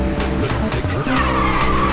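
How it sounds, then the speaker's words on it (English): Race cars in Ridge Racer 6 on Xbox Series X, loud engines roaring with rising and falling pitch, tires squealing and skidding continuously through the moment. "someone's using nitrous to catch up!"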